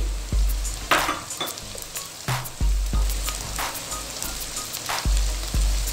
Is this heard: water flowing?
no